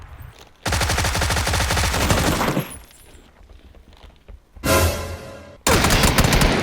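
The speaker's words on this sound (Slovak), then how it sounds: "Alex, som videla, že si strieľal" Gunfire in the battle royale video game PUBG: long, loud bursts of rapid automatic fire, broken by a brief lull, then two more sharp bursts close by.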